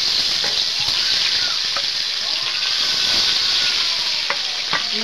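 Fish frying in hot oil in a pan, a loud continuous sizzle and crackle with occasional stirring clinks, close and steady throughout.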